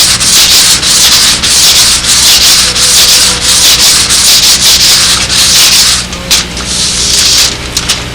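Sandpaper rubbing steadily over a model airplane fuselage to dress off excess CA glue, a loud, continuous gritty scrape with brief pauses between strokes and no talk.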